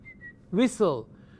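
A person whistles one short, thin, steady tone, and a voice follows right after.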